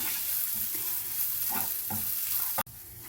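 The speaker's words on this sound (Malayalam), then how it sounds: "ഒരു ടീസ്പൂൺ മുളക് പൊടി ഒരു കാൽ ടീസ്പൂൺ കുരുമുളക് പൊടി പൊടി ഒരു കാൽ ടീസ്പൂൺ മഞ്ഞൾപ്പൊടി ഇത്രയും ഇതിലേക്ക് ചേർത്ത് കൊടുക്കുക നല്ലവണ്ണം ഒന്ന് യോജിപ്പിച്ച ശേഷം" Chili, black pepper and turmeric powder being stirred into a stuffed-squid filling in a pan, a faint steady sizzle with several soft scraping strokes and a sharp clack near the end.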